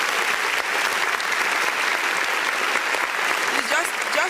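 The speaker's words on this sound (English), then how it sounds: "And please, can you give him a round of applause?" A large audience applauds steadily throughout, dense continuous clapping at a fairly loud, even level with faint crowd murmur underneath.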